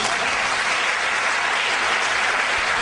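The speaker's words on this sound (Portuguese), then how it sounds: "Aplauda Jesus." An audience claps and cheers in sustained, dense applause at a church worship service, a steady wash of hands filling the whole stretch with no talk over it.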